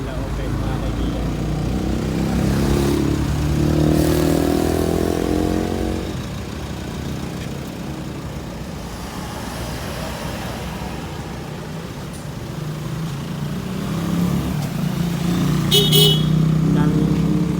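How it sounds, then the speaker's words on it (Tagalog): Tricycles and motorcycles pass along a busy road in Tagaytay, engines swelling and fading as vehicles go by, with a brief horn toot near the end and someone talking over the traffic. "Daming tricycle ay motor mga kaibigan."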